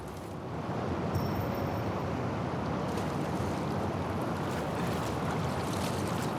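A waterfall in the sewers of The Last of Us Part II roars as a steady, loud rush of water that holds unbroken for the whole stretch, with no voices over it.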